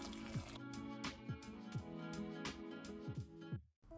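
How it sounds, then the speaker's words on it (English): Water pours into a pot over seedless jujubes, a continuous splashing rush with small drips and squishy liquid sounds, close and clear, ending in a brief drop to silence. "We're going to top them up with just enough water to cover them."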